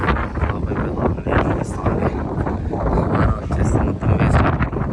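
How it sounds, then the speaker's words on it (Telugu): Strong wind buffets the microphone outdoors at a village barbecue ahead of rain, giving a loud, rough, gusting roar. Voices can be heard faintly underneath. "గాలి అయితే ఎక్కువ వస్తూ ఉంది."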